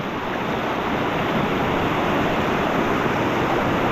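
The Dumacaa River's current rushes in a steady, dense broadband roar close by, constant and unbroken throughout, with no voices.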